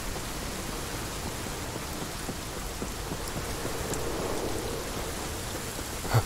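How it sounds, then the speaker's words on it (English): Heavy rain pours in the video game Cyberpunk 2077 as a dense, continuous wash with a low rumble swelling underneath, ending on a brief sharp knock, and no voices are heard. "Rain just got a lot louder."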